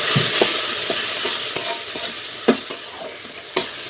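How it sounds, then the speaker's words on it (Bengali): Spice paste fries in oil in a pan while a spoon stirs it, with a steady sizzle and sharp scraping clicks of the utensil at irregular intervals. "এই মশলাটাকে কষিয়ে নেব, কষিয়ে ভালোভাবে কষিয়ে নেব।"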